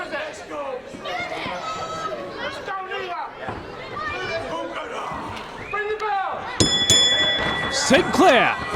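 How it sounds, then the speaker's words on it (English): A ring bell clangs several times near the end of a professional wrestling title match introduction, ringing out over a chattering, cheering crowd and voices. "Bring the bell!"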